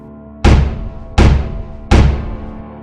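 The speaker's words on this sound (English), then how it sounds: "That thud was coming from the backyard." Three heavy, deep thuds, about 0.7 s apart, each booming loud and then ringing down slowly, set in a scary Halloween story, with no talk over them.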